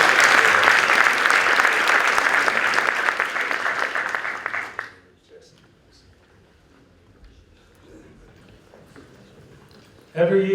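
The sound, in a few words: audience applause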